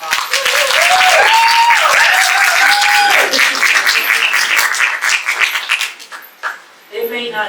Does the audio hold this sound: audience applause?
yes